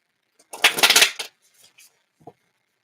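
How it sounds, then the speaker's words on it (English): A brief burst of riffled tarot card shuffling, close and fairly loud, followed by a few faint taps and soft rustles. "All right, let's shuffle one more time."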